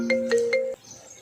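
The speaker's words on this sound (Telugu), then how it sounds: "ఇది మళ్ళీ ఫోన్ చేస్తోంది." A mobile phone rings nearby with a melodic electronic ringtone, a few bright tonal notes repeating before cutting off abruptly, leaving a quiet room.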